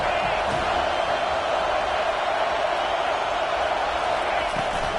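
Stadium crowd at a football video game on third down, a dense, steady roar of noise holding loud and even throughout, with a commentator's voice woven in underneath.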